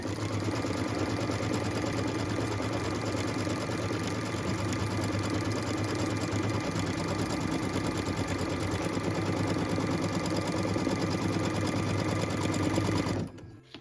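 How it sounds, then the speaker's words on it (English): An embroidery machine stitches out centering crosshairs, an X marking, on a Christmas tree skirt. Its steady, loud mechanical whir runs alone and unbroken for nearly fourteen seconds, then stops abruptly. "now I'm going to go ahead and stitch out those centering crosshairs"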